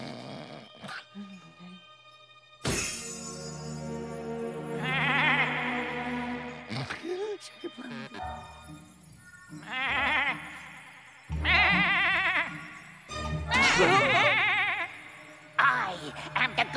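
Cartoon goats bleat in several loud, wavering bursts separated by short pauses, with voices speaking between the calls.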